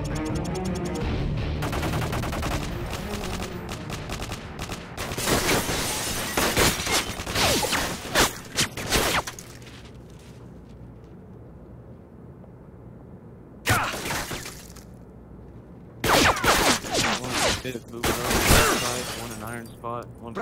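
Gunfire from a hardcore team deathmatch shooter match, with loud bursts of automatic fire and sharp shots in clusters, separated by quieter gaps with a low background hum.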